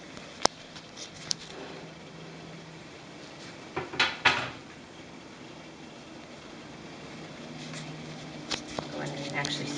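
Sliced bacon goes into a pan with a few soft clinks and clatters of cookware, scattered and fairly quiet, while a person keeps talking over a faint background hum.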